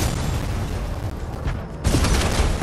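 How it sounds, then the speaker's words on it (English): Gunfire and booms in the video game Fortnite, a loud, dense burst of noisy shots and impacts that briefly drops and then swells again, without talk. "Someone's shooting at me."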